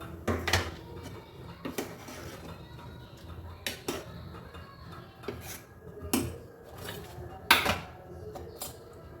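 Onion, chilli and coconut mixture tipped into a grinder jar in a home kitchen, giving a series of sharp clinks and knocks of utensil against jar, spaced irregularly over soft background rustling.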